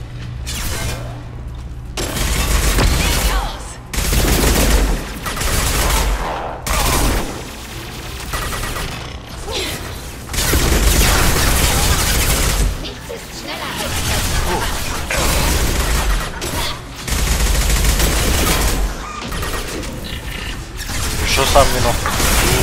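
Sustained bursts of rapid gunfire in Mass Effect 2, loud and close, coming in repeated waves with short pauses between volleys.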